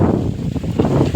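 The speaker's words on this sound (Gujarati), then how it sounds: "આજે આપણે મસ્ત ઠંડો ઠંડો પવન ખાવા વાળી આવી ગયો" A cool evening wind blows across the microphone outdoors at a farm, a low rumbling buffet that gusts unevenly for just over a second.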